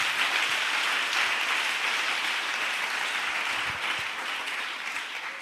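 A church congregation applauds continuously, a dense sustained wash of many hands clapping at fairly even loudness, easing slightly toward the end, with no speech over it.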